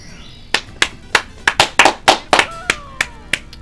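A pair of hands clapping close by, about a dozen sharp irregular claps spread over a few seconds, loud and dry with brief pauses between some strikes.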